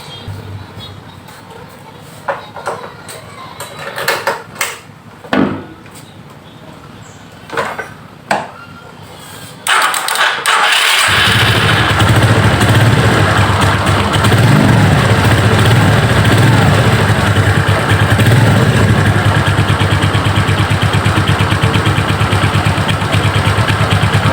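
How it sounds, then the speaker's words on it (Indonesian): A few clicks and knocks, then a Suzuki Hayate motorcycle engine fires up and settles into a loud, steady idle that continues to the end. "motor menyala dengan normal"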